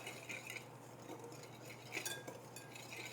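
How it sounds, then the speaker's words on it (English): Flour and a dash of salt whisked together in a bowl, giving soft, steady scraping and light clinking against a low, constant background hum. "The whole thing gets whisked together just to mix it all together."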